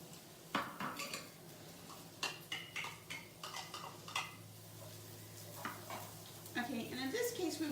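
A cup of celery goes into bacon-flavored ghee in a Teflon pan for wild rice stuffing, with a soft steady sizzle under repeated close scrapes and clinks of a metal spatula being stirred.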